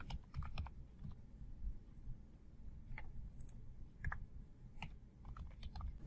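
Keystrokes on a computer keyboard as a username and password are entered, scattered taps in short bursts with pauses, close and fairly quiet over a low room hum.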